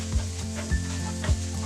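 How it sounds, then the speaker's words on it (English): Peas and tomatoes sautéing in a pan for Mumbai street-style pav bhaji, a close sizzle with three short rhythmic stirring knocks against the pan. "Next, let's add peas and tomatoes. Saute till tomatoes turn soft."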